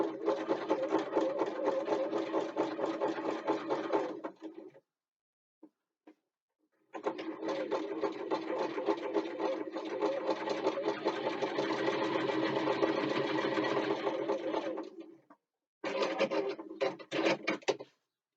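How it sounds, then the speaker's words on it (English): A home sewing machine runs in rapid, even stitching bursts, nearly five seconds, then a longer eight-second run and a short final burst, close and steady. "I call it a regular home sewing machine."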